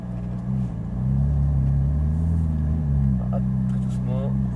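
A Ferrari 458 Italia creeps away slowly in first gear, its engine a low, steady rumble that swells slightly as it moves off, with someone talking over it.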